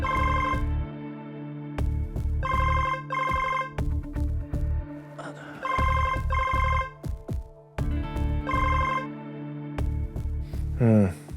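A telephone rings while a call is being placed in an Indonesian TV drama, with steady repeated double-ring bursts, loud and close, separated by short gaps.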